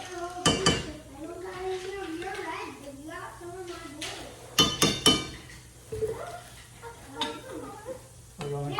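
Chopped onion and minced garlic stirred in a pan, with a utensil clinking and scraping in sharp bursts under a person talking throughout.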